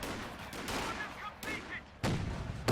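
Gunfire rakes a squad in Company of Heroes 2 as sharp bursts of shots crackle in clusters with short gaps, close and loud, mixed with louder blasts near the end.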